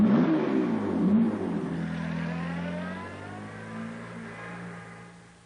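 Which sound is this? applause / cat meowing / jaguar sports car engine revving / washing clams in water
jaguar sports car engine revving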